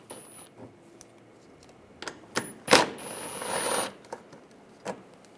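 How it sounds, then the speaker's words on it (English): Bolts removed with an 8mm socket on a 2006-2009 Mercedes-Benz E350 during fog light replacement, close metallic clicks and a brief whirring ratchet burst, then a few scattered taps. "Take these two bolts out using an 8mm socket."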